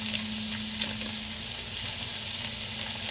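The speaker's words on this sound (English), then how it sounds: "I'm going to throw in this butter, and we're going to let it melt." Butter melting in a pan with whole milk for a saffron sauce gives off a loud, dense, unbroken sizzle over a faint steady hum, with no one speaking.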